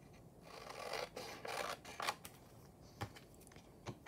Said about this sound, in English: So I'll just trim down here.